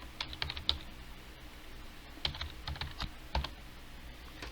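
Someone types a question on a computer keyboard in short, irregular bursts of quiet key clicks, with brief pauses between the clusters and no talking.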